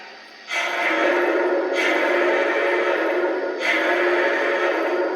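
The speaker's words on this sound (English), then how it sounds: "The classic hooter whistle that seems to be in every Lionel engine these days." A deep, steady Lionel-style model train hooter whistle sounds loud and close, holding its hooting tone with two brief breaks before resuming.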